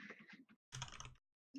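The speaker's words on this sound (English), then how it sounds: "That's a lot of typing." Quiet typing on a computer keyboard: a quick burst of clattering keystrokes, a short pause, then a denser run of taps, and a final burst starting at the end.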